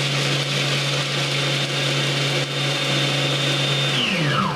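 Food processor blending garlic cloves into a pesto paste, a loud steady motor whir with a high whine that holds, then winds down in a falling pitch sweep near the end.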